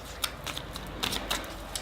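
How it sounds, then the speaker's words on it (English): A tarot deck is shuffled by hand in quick, crisp riffles and taps, close and clear with no talking. "Just giving the cards a very good shuffle."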